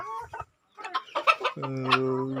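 Brooding hens cluck in short bursts, followed by a longer drawn-out hen call; the birds sound close, with brief quiet moments between calls.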